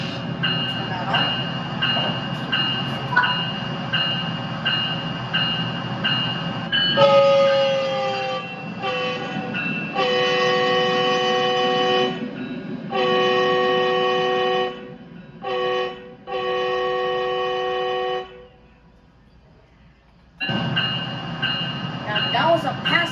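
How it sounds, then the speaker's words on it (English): In Train Sim World 4 on the Antelope Valley Line, a train rumbles past as its multi-tone horn blares in several long blasts and short bursts, loud and near, with a brief silence before the rumble returns. "That was a pass by of the NDF 125 with the horn back up on."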